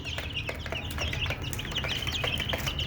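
A small flock of 16-day-old chicks kept on a home farm clucks and cheeps continuously in a close, busy chorus. Quick overlapping peeps run throughout with no voices.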